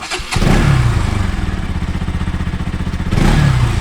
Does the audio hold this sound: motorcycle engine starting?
yes